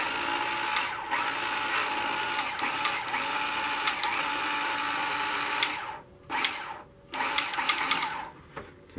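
Carrera Digital 1/24 Mercedes AMG C63 DTM slot car motor revving, a high, buzzing whine held for about six seconds, then cutting out and surging again in short bursts, close and fairly loud.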